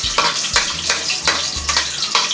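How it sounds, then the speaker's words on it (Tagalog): Running water rinses garlic in a kitchen, a steady splashing flow with irregular bursts as the cloves are handled under the stream, loud and close. "Bisahin ko na po ang bawang."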